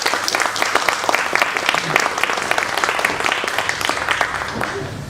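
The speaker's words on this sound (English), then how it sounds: "A big round of applause to Mr. Carella, Mrs. Kelly, Ms. Livingston for putting this all together." A big round of applause fills a board of education meeting room after a musical performance, loud sustained clapping lasting about five seconds, with voices mixed in underneath.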